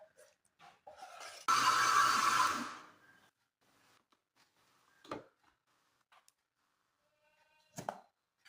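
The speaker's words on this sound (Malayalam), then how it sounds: "കലക്കിയെടുത്തിട്ട് നമുക്ക് മിക്സിയിലേക്ക് ഇട്ട് കൊടുക്കുമ്പോൾ ഒന്നുകൂടി ഒന്ന് നൈസായിട്ട് നമുക്ക് അരഞ്ഞ് കിട്ടും" An electric mixer grinder blending wheat flour batter for wheat dosa gives one loud, whirring burst lasting just over a second, followed by quiet with a few faint clicks and knocks.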